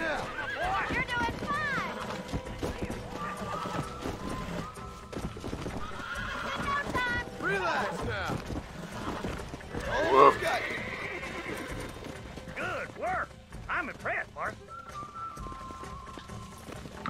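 In Red Dead Redemption, horses whinny loudly several times over clip-clopping hooves, the calls rising above a busy game soundscape with some talking underneath.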